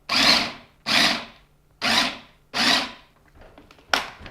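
A food processor grinds vegan taco filling in four loud pulses of roughly a second each, separated by short pauses, then a final brief burst, close and without speech.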